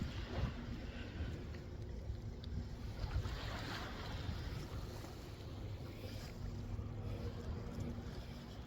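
Waves wash steadily onto Black Sand Beach at Two Harbors, Minnesota, a continuous rushing surf mixed with wind noise on the microphone, with no voices.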